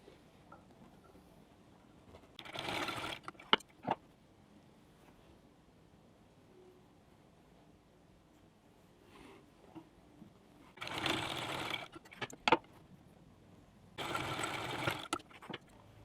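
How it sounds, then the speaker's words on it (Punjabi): A sewing machine stitches a bag made from a shirt in three short, buzzing bursts separated by quiet pauses, with faint clicks of handling between runs. "ਦੋਨੇ ਉਹਨਾਂ ਨੂੰ ਆਪਸ ਵਿੱਚ ਮਿਲਾ ਕੇ ਇਸ ਤਰ੍ਹਾਂ ਸਲਾਈ ਲਗਾ ਦਾਂਗੇ ਇਹਦੇ ਉੱਪਰ"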